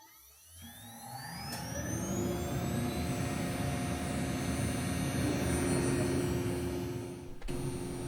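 A CNC machine starting to carve walnut, its spindle whining up in rising pitch and settling into a steady loud hum and rumble of cutting, with a brief click near the end.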